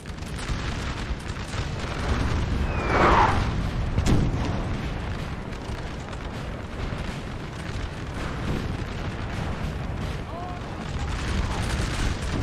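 Booming artillery fire from a Napoleonic battle at Friedland in Napoleon Total War, dull cannon thuds and rumbling against a busy battlefield din, with a sharper crack near the middle.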